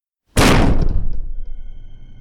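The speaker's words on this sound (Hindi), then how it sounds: "उसी समय दरवाजे पे तीसरी नॉक हुई।" A single loud, heavy knock lands on a flat's door, a sharp close thud that rings and decays slowly into quiet.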